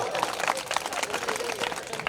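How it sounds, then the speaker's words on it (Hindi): An audience at a Hindi kavi sammelan poetry recital breaks into dense, steady applause, many hands clapping together throughout, loud and close, with faint voices mixed in. "तालियां आप बजा सकते हो साहब"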